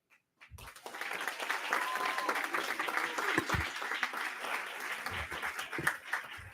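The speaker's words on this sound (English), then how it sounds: "people are clapping already" An audience at a school board of education meeting breaks into applause: a sustained, moderately loud burst of clapping that begins abruptly, carries on for about six seconds and tapers toward the end.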